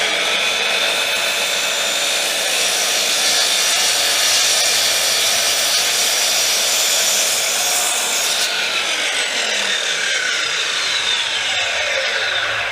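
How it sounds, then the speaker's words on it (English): A DeWalt DWS780 miter saw trimming a piece of wood, a loud continuous high whine and rasp of the blade cutting through the wood that shifts as the cut finishes, with no voices. "when you are actually trimming down wood like that"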